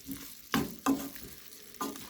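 Beef and garlic frying in a pan with no added oil, the pan sizzling softly while a utensil stirs with several distinct scraping strokes, close and alone.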